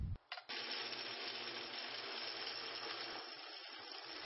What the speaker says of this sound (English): Now I'll clamp the drilled parts to their undrilled twins and drill those as well.